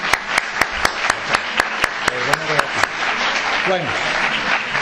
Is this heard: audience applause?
yes